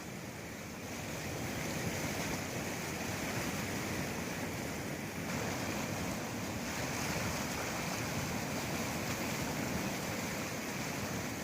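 Strong flood water rushing over a bridge, a continuous loud roar of turbulent flow mixed with wind noise on the microphone, with no speech.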